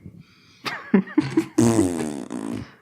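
Several short, sputtering fart noises in quick succession, then a longer, louder flatulent blast, all close up and with no talking.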